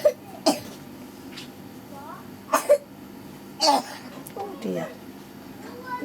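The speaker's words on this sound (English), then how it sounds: "getting a bad cough" Several sharp coughs from a person, spaced irregularly across six seconds, close and fairly loud, with quieter talk between them.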